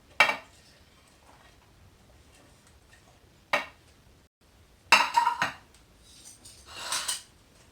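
Pieces of fish with Moroccan chermoula set down in a clay tagine: a few sharp clinks and clatters spaced apart, then a brief cluster of knocks and a softer scrape, close and fairly quiet, with no talking.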